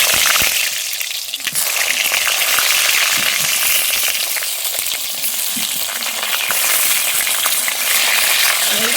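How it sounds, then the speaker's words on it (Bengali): Salted pointed gourd (potol) pieces fry in hot oil with a steady, loud, crackling sizzle that runs unbroken throughout, with no voices. "আমি এবার নুন মাখানো পটলগুলোকে ভেজে নিচ্ছি"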